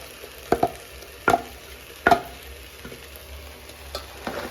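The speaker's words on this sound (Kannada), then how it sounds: "ಖಾರನ ರುಬ್ಬಿರೋದನ್ನ ಹಾಕೋತಾ ಇದ್ದೀನಿ." Ground chilli spice paste goes into a pan of oil with sprouted beans, giving a soft background sizzle broken by several sharp stirring clacks and scrapes of a spoon against the pan.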